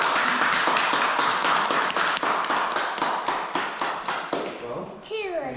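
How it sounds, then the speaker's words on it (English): Wedding guests give a burst of close, loud clapping with a rapid, even rhythm that tapers off near the end, where a voice comes in. "Your applause,"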